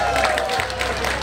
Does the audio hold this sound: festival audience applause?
yes